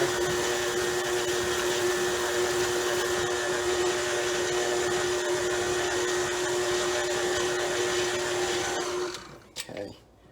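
An electric stand mixer whirs at steady speed beating whoopie pie batter, a loud continuous motor drone that winds down and stops near the end with a brief clatter.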